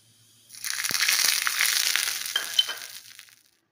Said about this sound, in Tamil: இதில் கொஞ்சமாக கடுகு மட்டும் தாளிச்சு